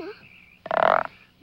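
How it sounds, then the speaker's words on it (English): A small frog gives one loud, close, buzzy croak lasting under half a second, with only faint background before and after. "that's only a little frog, my love"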